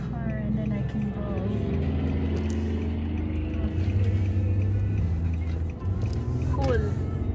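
A car drives past on a road narrowed to one lane through a construction zone, its engine swelling and fading near the end, under a steady in-car hum while a person talks throughout.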